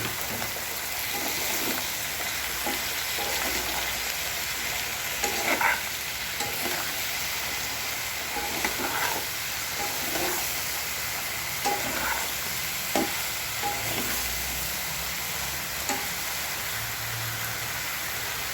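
Cut sponge gourd sizzling as it is stirred in a frying pan with already-fried fish and shrimp, a steady close hiss with irregular scraping strokes of the spatula throughout, no voices.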